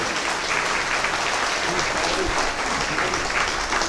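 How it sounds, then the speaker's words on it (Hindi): An audience claps continuously to welcome a guest on stage at a free eye surgery camp, a dense, steady wash of applause that fills the whole stretch at a fairly loud level. "सभी लोग सुभाष भैया को खूब ताली बजा के आशीर्वाद।"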